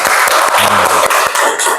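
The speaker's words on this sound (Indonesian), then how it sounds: "Kasih tepuk tangannya yang meriah." Students in a classroom during a coding lesson break into loud, dense applause that lasts under two seconds, with a voice briefly rising through the clapping.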